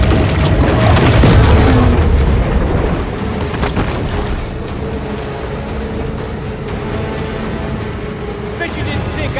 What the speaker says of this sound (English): Bet you didn't think I had torpedoes!